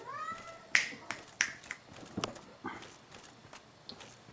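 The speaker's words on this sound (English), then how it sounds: "she just keeps meowing" A pet cat meows twice near the start, short rising cries, followed by scattered faint clicks and taps in a quiet indoor room.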